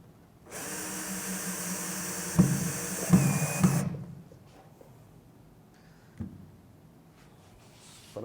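Power drill drives a screw into a wooden bookshelf, a loud steady whine of about three seconds with a few strained bursts as the screw seats, then a quiet room with faint handling knocks.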